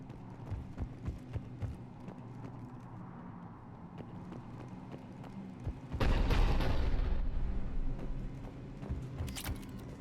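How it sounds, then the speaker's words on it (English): Heavy cannon fire in the Mass Effect 3 video game erupts midway as a loud, sustained burst of booming blasts and rumble, following a quieter stretch of low droning ambience with scattered thuds. "The cannon fire is clearing the way."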